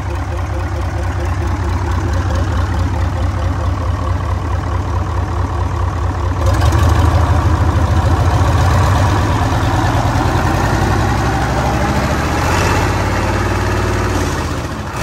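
Mitsubishi 8DC9 V8 diesel engine running smoothly without smoke, a steady deep idle heard close that steps up to a slightly higher, fuller rumble midway, with no talk over it.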